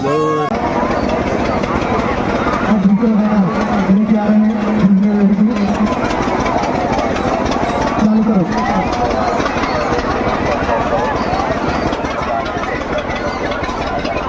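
Motorcycles run and idle at a village madai fair in Mandla, Madhya Pradesh, a loud continuous engine drone with a revving tone rising midway, under someone talking in Hindi.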